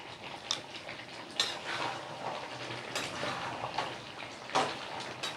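Chicken curry with garam masala is stirred in a pan, with a spoon scraping and clinking against the metal in irregular taps over a soft background of cooking noise.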